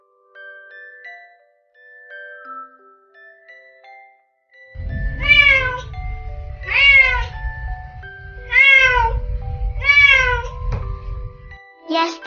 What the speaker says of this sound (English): Yes, this is a cat.